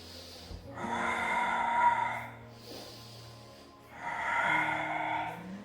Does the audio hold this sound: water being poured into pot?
no